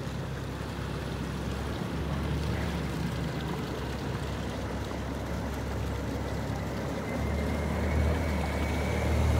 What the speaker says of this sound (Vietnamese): Xà lan khổng đang thả nước xuôi xuống nha các bạn.